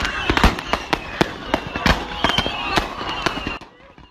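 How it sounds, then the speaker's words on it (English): Hundreds of fireworks go off inside a car trunk in a Houston parking lot on New Year's Eve, a loud irregular string of sharp bangs and crackles that cuts off abruptly. "fireworks shot through a parking lot in"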